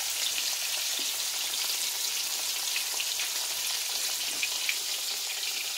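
Corn-flour-coated catfish fry in hot grease, a steady dense sizzle and crackle holding constant throughout, with no voices.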